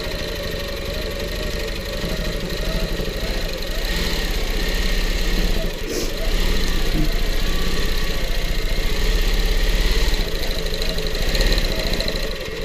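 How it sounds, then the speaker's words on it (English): A sewing machine runs continuously at fairly steady speed during free-motion quilting, a dense mechanical hum and rattle that lasts throughout. "Now I'm gonna free motion a plumb line on this without a ruler."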